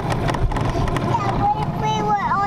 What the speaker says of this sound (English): So you can really start to hear how bad that outboard is sounding.